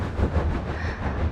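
Train running on rails in a horror story setting, a continuous low rumbling roll with faint rhythmic clatter, steady and moderately loud.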